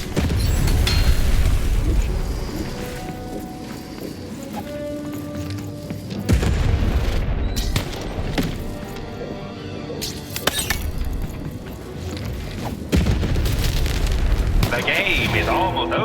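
Cannon blasts in the video game Lost in Random, heavy booming hits at a few points over a dense, loud game soundtrack.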